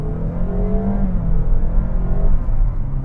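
Steady engine drone and whir of a 2024 Honda Vezel 1.5L e:HEV hybrid accelerating in sport mode, heard from inside the cabin, with tones rising gradually and a continuous low rumble throughout, no talking.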